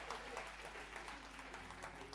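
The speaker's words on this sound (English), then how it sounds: "Clap hands for the global neighbor next to you." A congregation claps hands in a quiet, steady patter of many hands, fairly distant, with a faint voice in the background.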